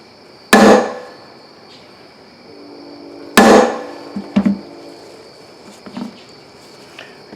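A part is hammered into a Borg Warner 1305/1339 Quadratrac transfer case with two loud, ringing metallic blows about three seconds apart, followed by a few lighter taps and knocks.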